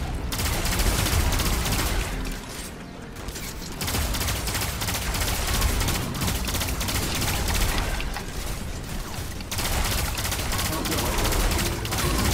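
The Gjallarhorn rocket launcher fires during a Destiny 2 grandmaster nightfall, amid dense combat noise of rapid shots and blasts with a couple of brief drops in intensity, while voices talk over the action.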